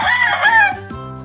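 A rooster crows close by on a farm, one short, loud, strained call that breaks off abruptly, with no voices around it.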